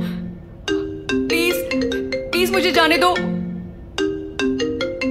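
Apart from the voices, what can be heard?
mobile phone ringtone, repeated incoming call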